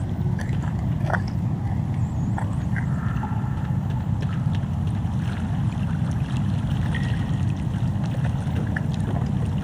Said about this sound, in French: Et là, on a un ruissellement de surface.